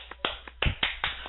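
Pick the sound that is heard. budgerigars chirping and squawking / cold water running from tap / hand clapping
hand clapping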